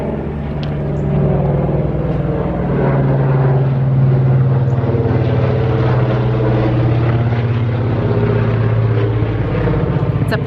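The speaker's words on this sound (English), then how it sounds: "It's a plane, buddy." A propeller airplane drones overhead, a loud, steady low rumble that holds through the whole stretch with no break.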